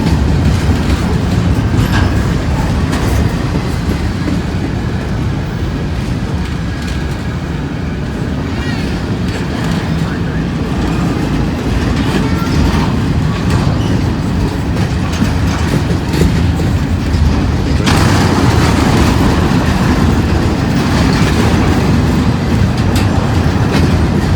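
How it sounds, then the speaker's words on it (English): A long freight train rumbles past for an extended stretch at Cowan, Tennessee, wheels clacking rhythmically on the rails, loud and close, with a voice speaking over it. "No matter what you think, this is a long train right here."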